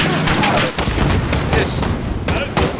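Dense gunfire and explosions from the video game Call of Duty: Modern Warfare crackle loudly and continuously in rapid bursts, mixed with booming blasts, while voices speak over the combat.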